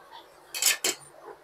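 A budget vegetable chopper cuts through beetroot in two quick, sharp bursts close by, each a crisp clatter of blades and plastic, with quiet moments before and after.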